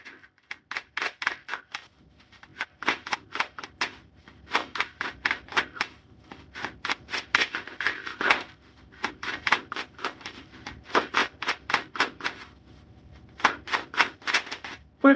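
Tarot cards being shuffled close up: repeated bursts of quick, crisp clicking riffles separated by short pauses, with no talking.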